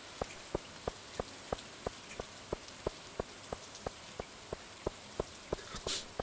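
In Stardew Valley, rain falls as a faint background hiss under a regular train of sharp, evenly spaced ticks, about three per second, with no voices.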